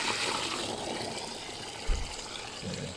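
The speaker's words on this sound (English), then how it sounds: "That's a lot of freaking water." Water gushes from the outlets of a billet 2JZ engine block plumbed through four AN10 lines into one AN20, a steady loud wash with a brief thump near the end.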